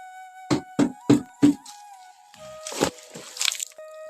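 Water wrung from parboiled paddy splashes down in four quick, evenly spaced squishy drips, followed by softer sloshing and trickling, close and clear without speech.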